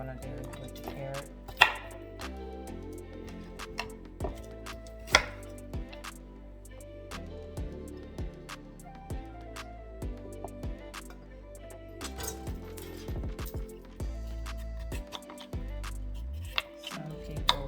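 A paring knife slices through a carrot on a cutting board, with sharp irregular chops spread over a quiet kitchen and a voice speaking at times between them.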